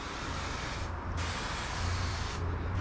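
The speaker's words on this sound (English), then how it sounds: "I can actually pre-spray a larger panel" A pressurized sprayer pre-sprays a car panel in a garage, hissing in a long continuous spray, briefly pausing and then resuming, loud and close.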